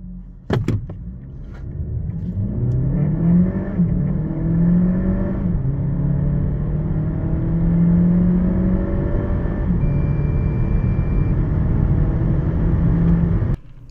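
An Alfa Romeo Tonale 1.5 Hybrid with a seven-speed dual-clutch gearbox revs up hard from a standstill to 100 km/h, its pitch climbing through several gear changes, loud and steady for over ten seconds.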